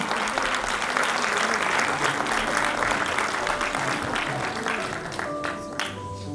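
An audience at a high school centenary celebration breaks into steady applause that holds for several seconds and thins slightly toward the end.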